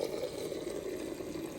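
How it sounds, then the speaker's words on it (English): Water pours steadily into a small 16-ounce glass of layered coffee, a continuous close splashing fill with no talking. "So now I just fill this up with water."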